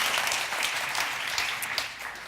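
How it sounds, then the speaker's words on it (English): An audience at a panel discussion on the future of trade unions applauds, giving a steady, moderately loud wash of clapping that tapers slightly toward the end. "applause."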